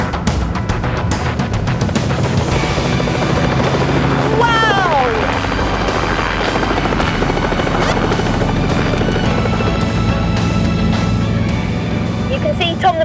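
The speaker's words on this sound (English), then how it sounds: "this makes the helicopter go forwards" A helicopter takes off and flies forward, its loud rotor and engine roar steady and close throughout, with a brief rising whine near the middle.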